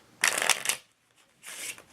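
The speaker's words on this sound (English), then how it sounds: "All the cards can be shuffled." A deck of playing cards is riffle-shuffled twice, each a crisp rapid fluttering burst with a brief quiet gap between, close and fairly soft, with no talking.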